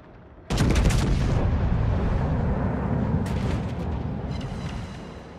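Heavy naval cannon fire from a warship in a naval battle video game: a loud boom at the start rolls into a sustained low rumble, with a second crack of gunfire partway through, and no voices.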